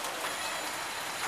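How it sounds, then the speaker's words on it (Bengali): A heavy downpour falls as a steady, dense hiss of rain on surfaces, continuous and enveloping with no voices. "এই বছর প্রথম এই ঝুম বৃষ্টি মনে হয়"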